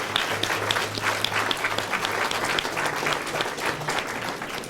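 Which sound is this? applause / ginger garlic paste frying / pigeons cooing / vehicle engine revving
applause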